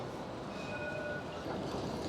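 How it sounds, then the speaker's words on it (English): A Melbourne city tram rolls past while heard from inside a car in city traffic, a continuous low rumble and wheel noise with faint thin squeals riding over it. "And there are our world famous trams."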